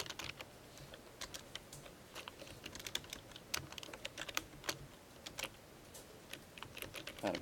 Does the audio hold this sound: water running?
no